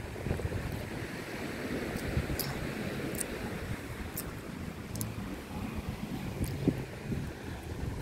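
Surf on a long, busy stretch of Bang Tao Beach in Phuket, Thailand, a steady wash of waves with wind rumbling against the microphone and faint scattered clicks, no voices.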